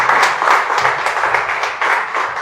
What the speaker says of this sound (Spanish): Aplaude al Señor.